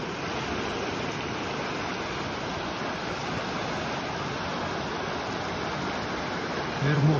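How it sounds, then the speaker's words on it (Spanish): Arroyo Blanco, a stream in Valles, flows in a continuous broadband rush of running water, steady and fairly close, with a brief louder splash near the end and no voices. "Este es el famoso Arroyo Blanco"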